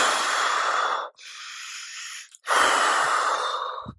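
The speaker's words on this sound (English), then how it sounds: "breathe out through your mouth" Two long, deliberate exhalations through the mouth, close and breathy, separated by a quieter drawn-in breath, with no talking.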